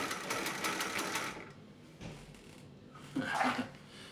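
A Juki LU-563 industrial walking foot sewing machine, fitted with a new motor, stitches in a quick, rhythmic chatter for about a second and a half, then pauses, with a short handling burst and a brief voice later.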